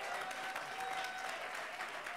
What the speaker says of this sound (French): Est-ce qu'on peut avoir une bonne acclamation ce matin?